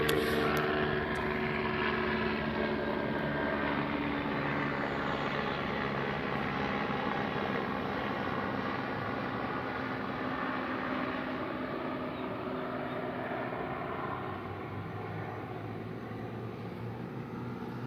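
A propeller airplane passes directly overhead in a town square in Ontario, a steady broad engine drone that stays loud and close throughout, slowly easing off toward the end with no talk.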